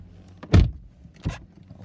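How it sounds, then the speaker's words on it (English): The driver door of a 2018 Chevrolet Malibu is opened and then shut, a latch click followed by a louder closing thunk, near and with no talk. "Open and close the driver door."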